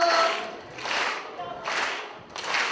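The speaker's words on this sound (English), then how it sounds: "Double clap." Four separate bursts of hand claps in a steady rhythm, each about half a second apart from the next, close and fairly quiet during a children's dance party, with a faint background tone.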